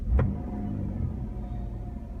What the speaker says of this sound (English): Now I just rev it once to bring up the RPMs.